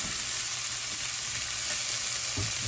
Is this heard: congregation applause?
no